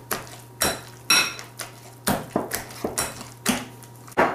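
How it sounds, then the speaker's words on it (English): Eggs, salt and nutmeg get worked into potato gnocchi dough in a bowl, with a run of sharp utensil clacks and knocks against the bowl in an irregular rhythm, close and fairly loud. "I put 2 eggs, the salt and the nutmeg, and I'm mixing it"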